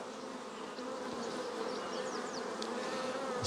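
Honeybees buzz steadily inside a hive whose colony may have lost its queen, a dense continuous hum close by with no talking.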